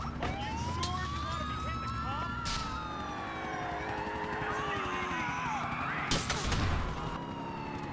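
Ambulance siren in the GTA IV video game, a wailing tone rising and falling continuously over game noise and street sounds, with a brief burst of louder sounds near the end.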